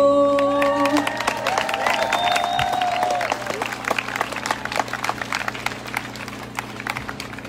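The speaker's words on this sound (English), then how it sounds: "give a huge round of applause to our musician crew" Applause and scattered clapping from an audience at a high school rally in Denver, fading gradually, with a tonal musical sound and crowd murmur near the start.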